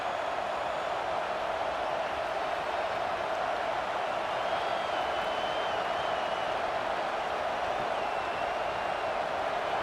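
Steady crowd roar in a stadium during a Penn State at Texas college football game, a constant distant wash of cheering and clapping with no break.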